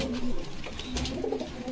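Pigeons coo steadily at a pigeon farm in Bogura, a close, continuous soft purring with overlapping calls from several birds and low background clatter.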